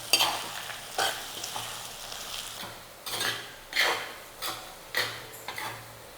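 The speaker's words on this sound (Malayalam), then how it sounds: "എന്നിട്ട് ഇതെല്ലാം കൂടി നന്നായിട്ട് അങ്ങോട്ട് ഇളക്കാം." Brinjal chutney with Kashmiri chili powder is stirred in a pan, giving a series of scraping, clinking spoon strokes over a low frying sizzle at roughly one-second intervals, close and alone.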